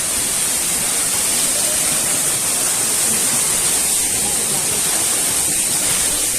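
Loud, unbroken roar of a waterfall rushing close by, a dense wash of falling water filling the whole clip with no voices.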